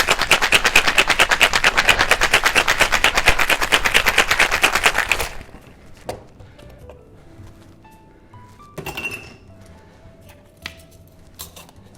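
Ice rattles hard and fast inside a cocktail shaker holding a drink with fresh lime juice, in a steady, rapid rhythm for several seconds, then stops, leaving a few quiet clinks and taps.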